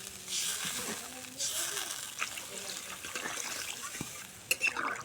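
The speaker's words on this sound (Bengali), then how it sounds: "আমি এখানে মশলার জলটা দিচ্ছি তো আর একটু দিয়ে দিচ্ছি জল" Spiced water is poured into a pan of fish curry with cauliflower and potatoes, a soft liquid splash and trickle under a quiet voice talking.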